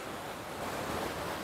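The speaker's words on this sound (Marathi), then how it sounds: "तिथं साईडला धबधबा आहे।" A waterfall at Mapro Garden in Mahabaleshwar gives a constant broadband rush of falling water, steady and even with no pauses.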